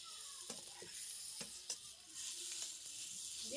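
Potato filling for aloo paratha being stirred with ginger in a kadai, a soft low sizzle with a handful of sparse utensil taps and scrapes, faint and close.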